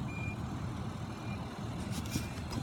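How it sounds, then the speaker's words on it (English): Faint tailgate warning beeps from a 2015 Infiniti QX80 sound over a steady low vehicle rumble, thin and distant in the mix. "To let the tailgate down, just one push, three beeps and it'll go down."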